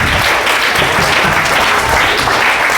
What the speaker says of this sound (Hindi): ताली बजाने के लिए।